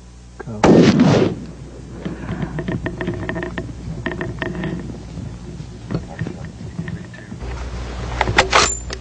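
A rifle shot during a mountain hunt for rams, one loud sharp report with a rumbling tail near the start, followed by quieter outdoor rustling and voices speaking.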